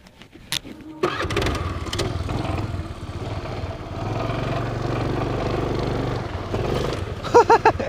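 A homemade mini Royal Enfield motorbike engine starts and runs loudly and close during an off-road test, holding a steady throaty drone before a few sharper bursts near the end.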